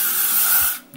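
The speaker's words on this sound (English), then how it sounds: "I'm just gonna finish off with some hairspray." A single sustained hiss of L'Oreal Elnette aerosol hairspray, close and loud for most of a second before cutting off.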